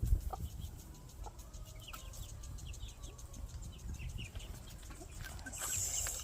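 Backyard chickens cluck softly and intermittently nearby, with faint scattered calls over quiet ambient noise and no talking.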